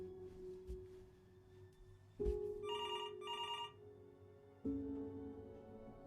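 A telephone rings in the video game Before Your Eyes, two short bursts of bright electronic trilling mid-clip, heard over a steady low musical drone with no talking.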